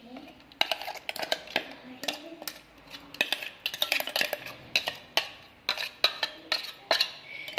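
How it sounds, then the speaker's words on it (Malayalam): Ground curd and coconut mixture is scraped and poured from a vessel onto cooked beetroot for beetroot pachadi, with rapid clinks and taps of a spoon against metal and faint speech underneath. "ഇത് നമുക്ക് ഈ വേവിച്ച് വെച്ചിട്ടുള്ള ഈ ബീട്രൂട്ടിലോട്ടേക്ക് ഒഴിച്ചു കൊടുക്കാം."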